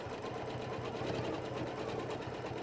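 A sewing machine stitches a small curve along a back-to-back ruler template, running steadily and close with a fast, even needle rhythm throughout, without pause.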